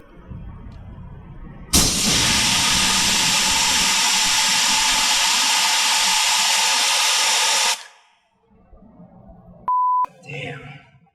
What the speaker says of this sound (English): my air compressor is a Viair 400P, which is only rated for up to 35-inch tires, so this took a very long time to get the tire back up to 38 PSI